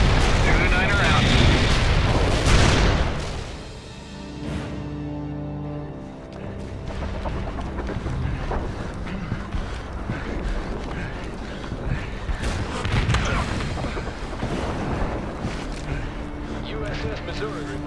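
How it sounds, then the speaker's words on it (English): Mortar strike explosions in the World in Conflict battle for Pine Valley, with heavy booming blasts at the start followed by rolling rumbles and further impacts, under game voices and battlefield noise. "Mortar strike in for full effect."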